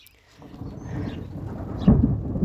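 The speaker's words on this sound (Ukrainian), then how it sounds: "Ух, гримить." Low thunder rumbles through a storm in the Netherlands, swelling from quiet into a sustained roll with a stronger crack near the end, heard close and loud, with rain in the background.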